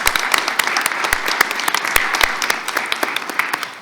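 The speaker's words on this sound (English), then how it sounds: "Let's give him a round of applause to acknowledge him." Applause from the audience at a school board reorganization meeting: dense, steady clapping with sharper individual claps standing out, filling the room for the whole stretch with no talking.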